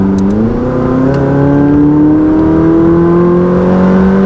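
A 2019 McLaren 600LT accelerates hard, its engine note climbing steadily in a loud, sustained rising whine and roar heard close up, with no talking.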